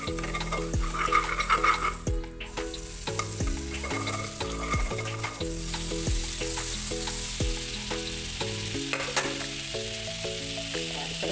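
Continuous sizzling of butter in a hot wok, with repeated metallic scrapes and clinks of a utensil stirring throughout, fairly close.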